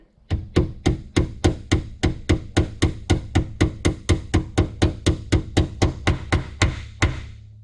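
Rapid, even series of about twenty-four sharp knocks as an Elka shock part is tapped into place on a Yamaha Grizzly or Kodiak ATV, each hit ringing briefly, loud and close, with no talking.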